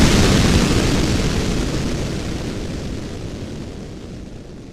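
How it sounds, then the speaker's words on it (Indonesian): A loud, broad roaring rumble, like the tail of a big explosion, slowly fading over several seconds. "Pak Sodik, Hamzah dan Hamid, tiba-tiba mereka dikagetkan oleh suara ledakan dari arah atap rumah milik Mbah Dukun."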